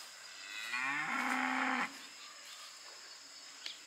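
A young bull calf moos once, close and fairly loud, for about a second near the cattle yards of a dragonfruit farm, then only quiet outdoor ambience remains.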